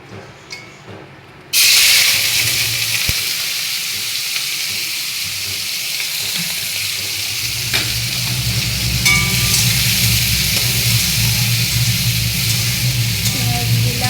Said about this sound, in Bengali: এবার কড়া তেলের উপরে দেব।